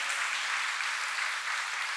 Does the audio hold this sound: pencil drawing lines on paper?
no